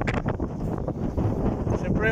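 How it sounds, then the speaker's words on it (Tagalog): Gusty wind buffets the microphone with a low rumbling roar while a person talks over it. "Medyo mahangin, buti na lang mahangin."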